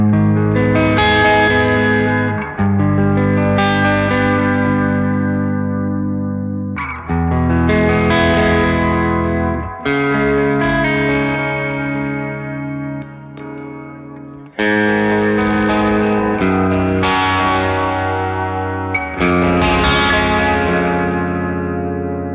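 Electric guitar chords ring out one after another through the lo-fi mode of a Walrus Audio Fathom reverb pedal, washed in warbly, slightly distorted reverb that smears each strum into a hazy, wobbling tail.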